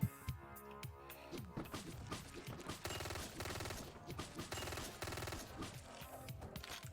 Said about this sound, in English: we try to aim as much of our bullets at the big guy as possible to make him bleed out